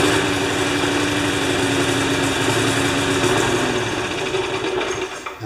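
A Briggs engine on a Pulsar Prime lawn mower runs with a flooded carburetor, a steady, loud, buzzing drone that stays close and continuous with no speech over it.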